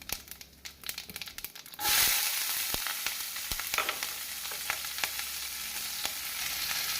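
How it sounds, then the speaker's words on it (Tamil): A few quiet clicks and rustles, then a sudden loud sizzle as chopped onion and garlic hit hot oil with mustard seeds, followed by steady frying with occasional stirring scrapes. "கடுகு பொரிந்ததும் நாம் நறுக்கிய வெங்காயத்தையும் பூண்டையும் போட்டு விடலாம்"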